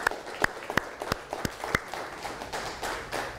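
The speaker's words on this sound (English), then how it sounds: "So let's actually give our hosts a round of applause." A small lunch audience gives a round of applause for the hosts, a few sharp, distinct claps near the mic ringing out amid a thin patter of others, tapering off.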